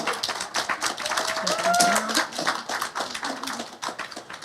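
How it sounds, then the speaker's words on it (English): An audience claps at a talk on textile art, a short burst of scattered, uneven claps with a few voices murmuring underneath. "Can we get a round of applause?"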